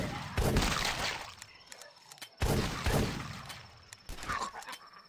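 Gunfire in the video game The Last Stand: two heavy, loud blasts about two seconds apart, each trailing off in a rattling decay, followed by a weaker burst near the end.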